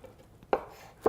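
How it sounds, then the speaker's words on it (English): A knife chops through a tightly held bundle of fresh cilantro on a cutting board, two crisp, distinct thuds spaced about half a second apart against a quiet kitchen background. "And run your knife through this bundle, hold it tight,"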